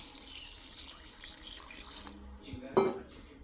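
Water runs into freshly churned butter in a bowl, a soft, fairly quiet pouring trickle that ends in a brief, louder splash near the close.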